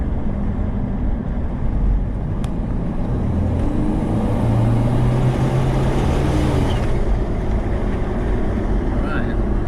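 A turbocharged 5VZ V6 in a 1998 Toyota 4Runner accelerates with a loud, steady, close engine roar that rises slightly midway, while a voice is heard briefly under it.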